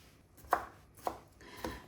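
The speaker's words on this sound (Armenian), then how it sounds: "Կտրատեմ ու խառնեմ հավի կրծքամասին։" A kitchen knife chops ingredients for a chicken breast and broccoli salad, landing three sharp, evenly spaced chops on a board, close and alone with no talking.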